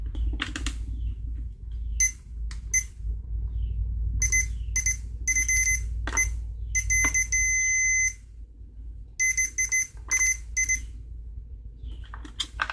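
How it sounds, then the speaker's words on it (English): Repeated short electronic beeps from a switch tester checking a Husqvarna 262XP chainsaw kill switch, in irregular bursts, some brief and some held for a second or more, over a low steady hum; no talking. "Now when I slide the switch to the on position, I should get a beep."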